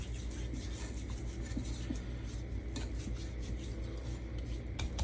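Seasoning rubbed by hand into food for a classic French recipe, a steady soft rasping and rubbing that runs continuously at close range with no talk.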